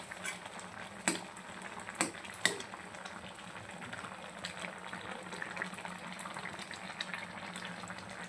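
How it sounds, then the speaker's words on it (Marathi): Water boiling in a pot, a steady, soft bubbling with a few sharper pops near the start, faint and continuous with no voices. "हे बघा छानपैकी उकळी आलेली आहे."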